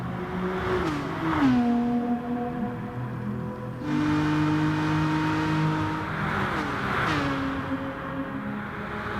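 A race car's engine in Gran Turismo Sport at Bathurst screams at full throttle, its pitch climbing through the gears with shifts heard as sudden drops, loud and continuous.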